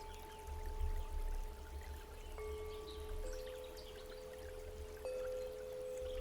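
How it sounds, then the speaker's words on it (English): Water trickling and splashing softly at a large outdoor fountain, a faint continuous patter under steady tonal hums, with no talking. "You can hear the sounds of a water fountain up ahead"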